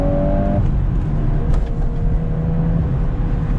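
A 2022 VW Golf R pulls hard on a road by a river, its engine spinning up with a smooth rising drone and steady road rumble beneath, close and loud.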